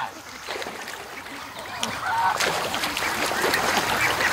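Geese heading toward a lake at the mouth of a creek honk repeatedly at a moderate distance, with scattered calls over outdoor ambience and a faint splash.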